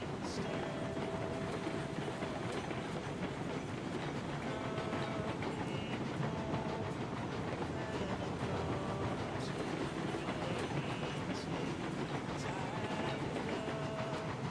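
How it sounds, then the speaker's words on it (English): Train from the game Railroads Online rolling along rails, a continuous dense rumble and rattle with faint clickety-clack, steady and fairly loud throughout. "we can just worry about keeping the train on the tracks at the right speed"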